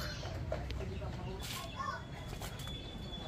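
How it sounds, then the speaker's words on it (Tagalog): Chickens cluck softly nearby against outdoor background noise while a person talks. "Tapos manok. May manok manok."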